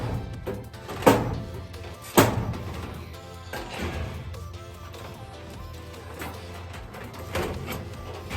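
Sheet metal for a four-piece build gets bent by hand, giving two loud metallic thunks and booming flexes followed by softer creaks and rattles at close range.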